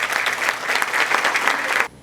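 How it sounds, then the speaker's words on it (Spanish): Strong, steady applause from a seated audience at an international accounting seminar greets a guest speaker for about two seconds, then cuts off abruptly into near silence. "a quien lo recibimos con fuertes aplausos"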